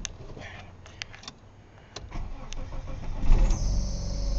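A 1996 Dodge Neon with a newly replaced power steering pump is started: a few clicks, then the starter cranks and the engine catches near the end, rising into a steady idle close by.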